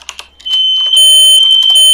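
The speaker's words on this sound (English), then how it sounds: "Your fire alarms went off for like half a second." A fire alarm in a home blares a steady, piercing electronic tone for about a second and a half, loud and close, preceded by a few faint clicks and taps.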